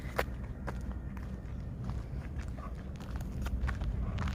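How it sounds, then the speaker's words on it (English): Footsteps on a city street in Vienna, a steady series of light, close steps over a continuous outdoor background hum, with no talking. "I love the sound of my footsteps as well, actually."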